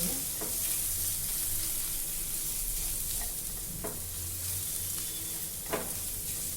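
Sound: frying green chilies and bay leaves in pan

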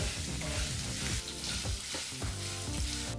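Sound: onions and chutney ingredients frying in a pan

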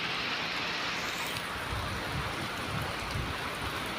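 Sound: rain falling

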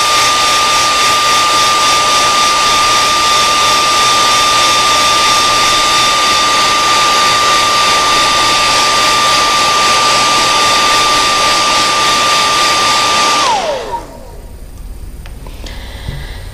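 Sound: heat gun heat-setting paint

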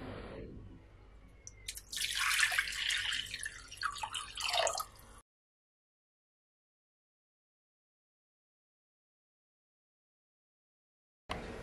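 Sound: pouring a glass of water onto tamarind

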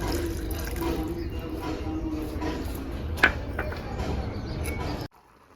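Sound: water poured into a pot and boiling

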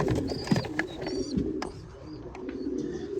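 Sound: pigeons cooing in a loft

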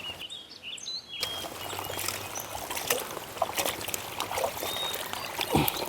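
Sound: washing meat with water for kappa biryani

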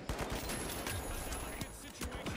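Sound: gunfire in the video game The Finals

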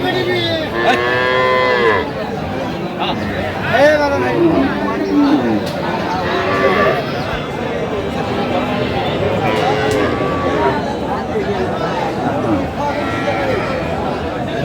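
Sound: cow mooing

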